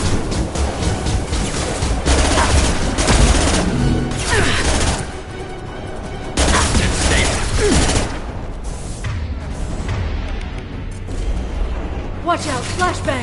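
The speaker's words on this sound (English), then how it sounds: "Watch out, flashbangs!" Flashbang grenades going off during a loud video game firefight, sharp bangs and crashes amid continuous gunfire, with voices talking over the chaos.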